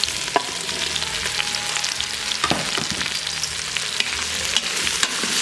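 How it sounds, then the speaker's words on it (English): Onions and mustard frying in olive oil with a little butter, a steady close sizzle with scattered pops and light stirring clatter throughout. "I'm gonna put the onions and the mustard in."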